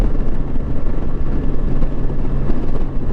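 A 2007 Yamaha FJR motorcycle cruises at highway speed after a replacement engine was fitted, producing a loud, steady low rumble mixed with heavy wind buffeting and no speech.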